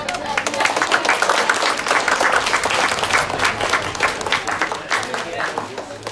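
A crowd applauds at an awards event, sustained clapping with individual claps distinct and a rippling rhythm, steady across several seconds with some voices beneath.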